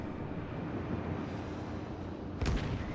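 A battleship's big guns fire a salvo in the naval combat game World of Warships, one sharp booming blast standing out late over a constant low rumbling engine-and-sea drone.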